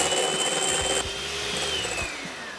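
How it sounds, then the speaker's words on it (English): Electric mixer whisking brown sugar meringue for pavlova back up to stiff peaks, a steady close motor whir with a faint rising and falling pitch, no voices. "now I'm going to whisk back up to stiff peaks"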